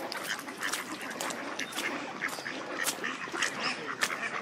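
A large group of ducks quacks in a park at Cedar Hill, a busy overlapping chorus of short calls, some near and some farther off, with no talk.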